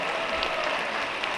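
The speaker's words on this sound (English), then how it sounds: "A round of applause, of course," A crowd applauds the interpretation services at the Megaplex 2025 opening ceremonies, a dense, continuous wash of clapping with no voices over it.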